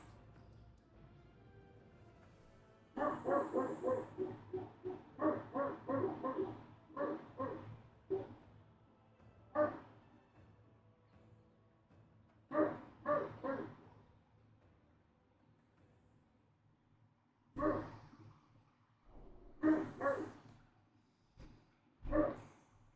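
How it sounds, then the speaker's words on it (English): Several dogs bark indoors in bursts, with fast clusters of barks and yips early on and then scattered single and paired barks after a pause, fairly close over a quiet background. "Sorry, the dogs are going up for a second."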